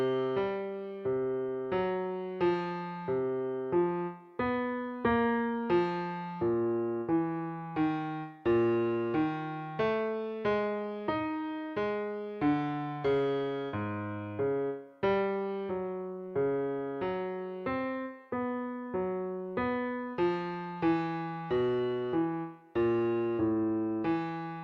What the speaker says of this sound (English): So what I'm going to play for you is simply just the bass line, moving through all 12 keys around the circle of fourths.